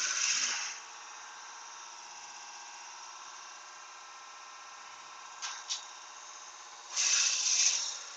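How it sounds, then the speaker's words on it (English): A drill with a Forstner bit enlarges a hole in wood, giving a steady, fairly faint whirring hum between louder bursts of cutting at the start, in a short spell near the middle and again at the end. "I need to make a hole bigger. I need to get the Forstner bit in again."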